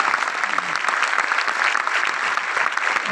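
Loud, dense clapping from a seminar audience in Delhi, sustained and even for a few seconds with no voices over it.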